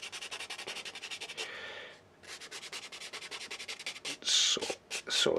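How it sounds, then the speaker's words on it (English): Wooden model pirate ship part being filed and then sanded by hand, a close rhythmic rasping of repeated strokes with a brief pause, ending in harsher, louder scrubbing bursts. "file it a bit like this, sand it."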